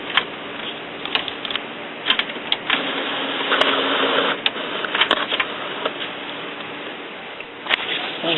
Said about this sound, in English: I push the start button. It's going to print out